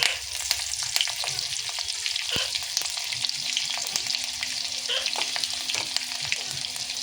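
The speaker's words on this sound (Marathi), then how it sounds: "5-6 लसणाच्या पाकळ्या चेचून टाकूया, आणि हे कढीपत्ते थोडेसे" Crushed garlic cloves and curry leaves sizzle in hot oil with a pinch of asafoetida, a dense, steady frying hiss heard up close with small pops and crackles and occasional stirring taps throughout.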